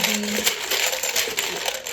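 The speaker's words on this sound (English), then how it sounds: "I know some of you may find this noise irritating, but that's how we shuffle." Shuffling during a pick-a-card reading gives a close, continuous dense rustle and clatter, bright and busy, with small clicks scattered through it and no talk over it.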